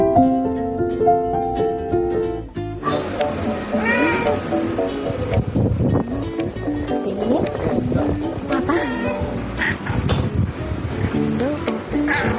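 A pet cat meows repeatedly in a drawn-out, wavering voice over a steady bed of music, loud and close throughout.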